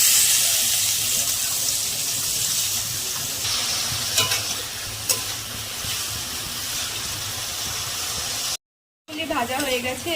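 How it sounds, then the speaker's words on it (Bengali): Carrots fry in hot oil in a kadai with a continuous hissing sizzle and a few clinks of stirring, close up, broken near the end by a brief silence. "এরপর গরম কড়াইয়ের মধ্যে তেল দিয়ে গাজরগুলি ভালো করে ভেজে নেব।"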